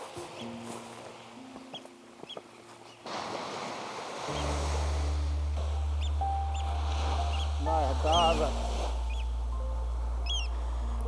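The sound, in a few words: ocean waves in Lapland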